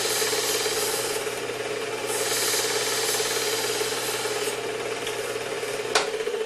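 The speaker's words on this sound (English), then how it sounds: "I can move over to the left side of the knife sharpening guide and do the same number of strokes so they grind a nice even bevel" A Work Sharp 2000KN powered belt sharpener grinds the bevel of a knife blade held in its sharpening guide, giving a steady close abrasive rasp over a constant motor hum, with a small click near the end.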